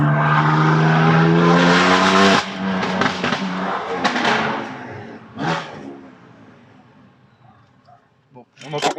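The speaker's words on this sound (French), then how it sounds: "on entend beaucoup plus les turbos" A tuned stage 2+ car making about 570 horsepower revs hard with a loud, close engine roar, then drops into crackling exhaust pops and turbo whoosh, with a voice over part of it.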